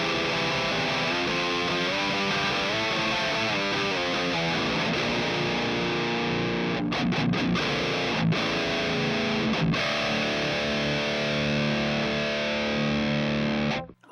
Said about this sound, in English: The important thing is how this guitar sounds.